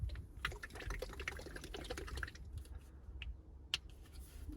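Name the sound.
shaking a bottle of leather protection cream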